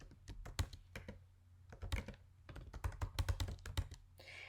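Quick bursts of typing on a computer keyboard, irregular clusters of close, crisp key taps with short pauses between, quiet and alone.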